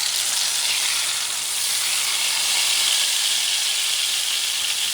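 Pork tenderloin searing in a preheated pan of extra virgin olive oil over medium-high heat, giving a loud, steady, broadband sizzle that holds evenly for the whole stretch with no talk over it.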